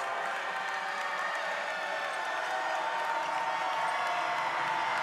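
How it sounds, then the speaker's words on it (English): A packed arena crowd at an NCAA men's college basketball game between Radford and Longwood roars steadily in a dense, unbroken wash of cheering and noise that holds at a loud level throughout. "Crowd making some noise."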